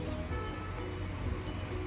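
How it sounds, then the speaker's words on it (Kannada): Mustard seeds splutter in hot oil as a tempering for spinach lentil sambar, a dense patter of tiny crackles and pops over a steady low sizzle, close by and moderately loud. "ಅದಕ್ಕೆ ಸ್ವಲ್ಪ ಸಾಸಿವೆ ಹಾಕ್ಕೊತೀನಿ"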